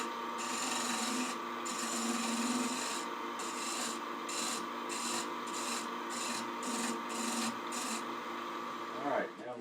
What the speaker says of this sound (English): I think I'll use a shear scraper for that